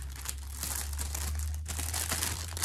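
A plastic bag holding decorative stickers crinkles and rustles close up, continuous crackling with a brief pause in the middle, over a low steady hum.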